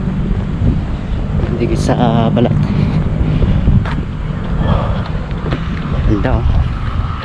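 Wind buffets the microphone during a boat ride, a steady gusty rush that runs throughout while a person speaks briefly over it.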